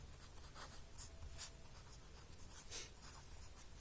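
Pen or chalk writes out a math equation during a class 10 lesson, producing soft scratchy strokes in short bursts, close and quiet with no voice over them.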